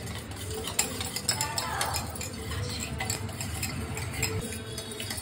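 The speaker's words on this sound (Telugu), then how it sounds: "సో అలా లేకుండా మనం బాగా మిక్స్ చేసుకోవాలి." A soap mixture with added powders is stirred in a double boiler, soft scraping and occasional light clinks of the spoon against the pot, faint and continuous with a low background hum.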